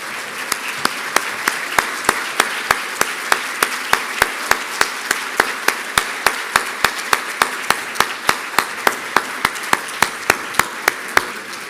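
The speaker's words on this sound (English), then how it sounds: "would you please stand up and let us applaud you for making this a family commitment?" Clapping at an education awards ceremony honouring teachers: a strong, regular rhythm of loud unison claps over a background of general applause, sustained throughout.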